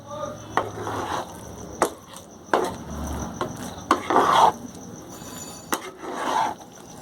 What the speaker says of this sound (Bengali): খুন্তি করে ভালো করে মিশিয়ে নিয়েছি